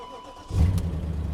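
A BMW M5, either the E39 or E60 with a 6-speed, fires up after sitting with a dead battery. There is a brief crank, then a loud, deep idle settles in close by and carries a faint lifter tick.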